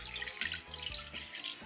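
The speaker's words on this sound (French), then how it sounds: "je viens mettre 400 g d'eau" Water pours steadily from a tap into a bowl on a kitchen scale, 400 grams measured for a harira soup base, a close, continuous splashing trickle with no talk.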